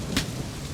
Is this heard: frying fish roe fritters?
no